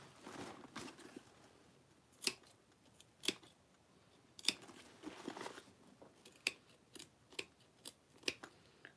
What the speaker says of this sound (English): I'm just gonna snip these curves